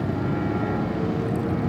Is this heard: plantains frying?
no